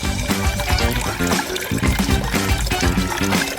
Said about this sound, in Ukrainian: Заливаємо все колою.